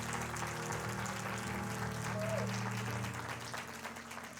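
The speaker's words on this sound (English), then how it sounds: "Let's give God a hand clap of praise." Church congregation giving a hand clap of praise during a live-streamed service, a steady wash of applause filling the room throughout at even loudness, with a faint voice briefly rising above it.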